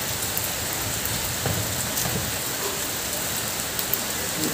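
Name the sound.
rain falling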